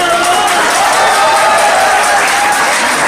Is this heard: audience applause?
yes